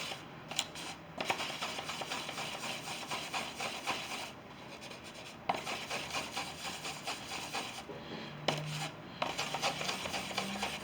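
A palette knife mixes oil paint on a palette, giving a steady, close rasping scrape in repeated strokes with brief pauses between passes.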